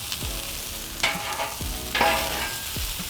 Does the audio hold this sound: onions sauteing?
yes